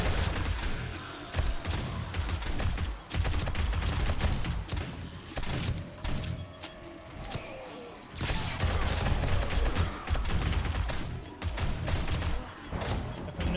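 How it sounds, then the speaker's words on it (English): Submachine gun bursts in the 7 Days to Die video game, Alpha 20, firing in repeated rapid volleys amid zombie-fight clamor, dense and loud with brief pauses between strings of shots. "I'm gonna bust out the SMG."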